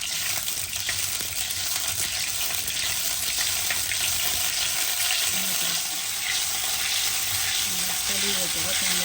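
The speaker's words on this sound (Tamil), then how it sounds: "உளுவரிசியை பொன்னிறமாக பொரிச்சு எடுக்கணும்." Soaked, washed urad rice frying in hot oil in a home kitchen pan for fenugreek curry, giving a steady, loud, continuous sizzle with bubbling crackle throughout.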